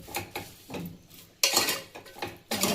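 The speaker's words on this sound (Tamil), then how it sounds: "நல்லா வதங்கிருச்சு பாருங்கள், முறுமுறுன்னு சவுண்டு கேட்குது." Tomatoes for a vegetable biryani sauté in a pan while a spoon stirs them, with repeated scraping clanks of metal on the pan and crackling sizzle in uneven bursts, close and fairly loud.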